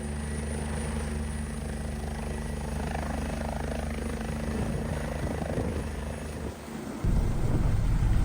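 A Mercy Flight air ambulance helicopter in Montana starts up and lifts off: a loud, steady rotor thrum and turbine whine hold for several seconds, then dip briefly and surge heavier near the end as it takes off.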